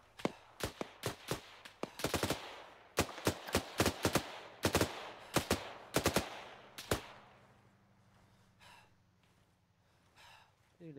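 Enemy soldiers' rifle fire in ArmA 3 cracks in loud, irregular single shots and short bursts close by, then thins out to faint distant pops, with breathy sounds heard between shots.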